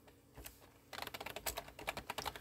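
Quick bursts of keystrokes on a computer keyboard as a web address is entered, a dense irregular clatter of soft clicks starting about a second in and continuing close and fairly quiet to the end.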